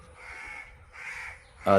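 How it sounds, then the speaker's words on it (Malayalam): Crows cawing near a nest where crow chicks have recently hatched, harsh calls coming in two longer bursts and then a louder, closer call at the end. "കാക്കകളൊക്കെ വിരിഞ്ഞ് കൂട്ടിൻ്റെ പുറത്തേക്ക് ഇറങ്ങിയിരിക്കുകയാണ്."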